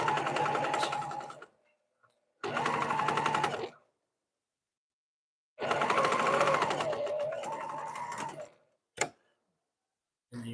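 A sewing machine stitches fabric in bursts, running in a steady rapid whir for a second or two, pausing, then running again for a longer stretch, close up with short clicks between.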